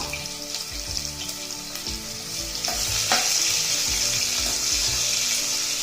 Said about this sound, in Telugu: తాలింపు దోరగా వేగిన తర్వాత సన్నగా తరిగిన ఉల్లిపాయ ముక్కలు